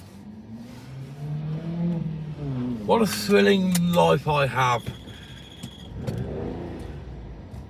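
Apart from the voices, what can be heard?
car driving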